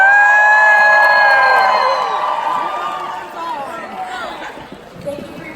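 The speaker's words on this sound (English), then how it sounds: "For once, I will not order you if you cheer for yourselves." Delegates at a youth House of Delegates session cheer, whoop and shout together, loud at first, then fading into scattered crowd chatter and calls.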